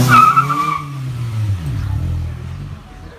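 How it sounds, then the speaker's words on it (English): Tires squeal loudly as a car does burnouts nearby, the engine revving underneath and the screech sliding downward as it fades over a few seconds. "dad doing burnouts and shit"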